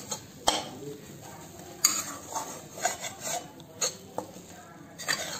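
Spinach kebab stuffing being mixed in a pan with a spatula, producing a handful of sharp metallic clinks and scrapes spaced irregularly over a faint background hiss.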